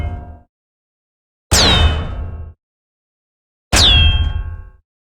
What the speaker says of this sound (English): a random container of aerodynamic bullet sounds, a random container of metal impacts,